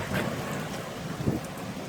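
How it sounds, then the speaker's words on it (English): Rain and wind outside at night during an approaching thunderstorm, a steady broadband hiss of falling rain and gusts with a soft low rumble of distant thunder. "You gonna get me wet with the rain? Give me a bolt."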